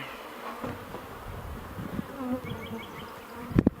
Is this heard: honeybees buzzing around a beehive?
yes